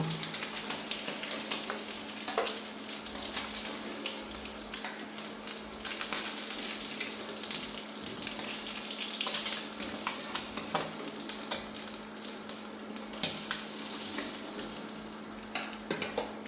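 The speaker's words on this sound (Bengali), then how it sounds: "ডিমগুলি দেখেন সুন্দর করে ভাজা হয়ে গেছে।" Eggs frying in oil in a pan, a continuous close sizzle with occasional stirring clicks and scrapes over a steady low hum.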